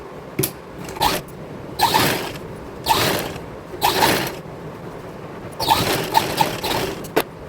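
A sewing machine stitching a blouse runs in short mechanical bursts, several whirring, clicking stitch runs separated by brief pauses, close and fairly loud with no talk.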